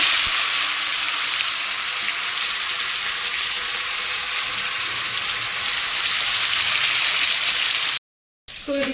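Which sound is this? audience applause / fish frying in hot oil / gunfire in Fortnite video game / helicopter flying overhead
fish frying in hot oil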